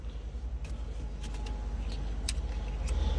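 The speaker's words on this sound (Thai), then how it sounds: "เหยียบเบรกกดหนึ่งครั้งเป็นการสตาร์ทเครื่องนะครับ" A car engine fitted with a push-button start runs at a low, steady idle rumble, close by and fairly quiet, growing slightly louder toward the end.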